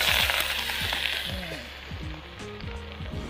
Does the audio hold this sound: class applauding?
no